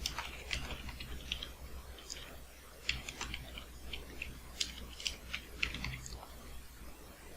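Quiz text is typed on a computer keyboard in scattered, irregular clicks of keys, faint and close, over a low steady hum.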